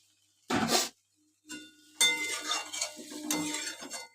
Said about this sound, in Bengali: ভালো করে নাড়াচাড়া করে ঢাকা দিয়ে দেবো।